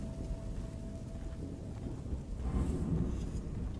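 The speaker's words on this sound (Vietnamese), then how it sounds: "Mưa gió bão bùng chứ." Rain and wind rush in a steady, rumbling storm with thunder from The Evil Within, a dark psychiatric hospital horror game, building louder midway and carrying on without talk.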